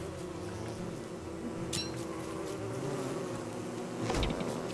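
A continuous droning buzz of bees in the survival game Don't Starve Together fills the whole stretch at an even level, with no voices and only a couple of faint clicks.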